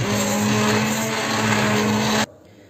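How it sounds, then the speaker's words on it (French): An immersion blender whirs loudly and steadily through coral lentil soup for about two seconds, then cuts off abruptly, leaving quiet room tone. "Et je vais venir redonner un coup de mixeur."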